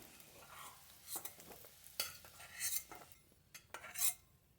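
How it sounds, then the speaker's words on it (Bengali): Raisins frying briefly in a pan for gond laddu, a soft sizzle with a few scraping stirs of a utensil and light metallic clinks, close and quiet, no voices. "অল্প একটু ভেজে নেবো বেশি ভাজবো না"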